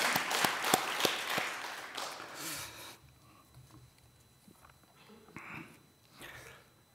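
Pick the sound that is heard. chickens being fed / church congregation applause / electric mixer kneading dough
church congregation applause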